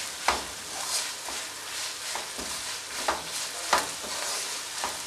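Ginger and garlic sauté in hot oil for a Kerala-style fish pickle, a steady soft sizzle broken by regular scraping stirs of the spoon in the pan, close and fairly quiet.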